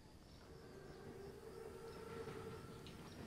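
A large armored train rolls along in a video game, giving a continuous low rumble with faint steady tones and a soft hiss, heard alone at a moderate distance.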